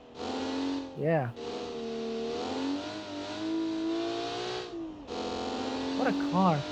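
A rear-wheel-drive car engine revs hard in a racing video game, a sustained buzzing drone that dips and rises with gear changes, cut by short voice-like bursts.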